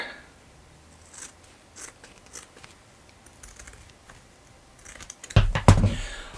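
Scissors cut a strip off a draft-stopper or damper insert while preparing for a trip, a few faint snips, then a louder burst of crisp cutting and rustling near the end, with no speech.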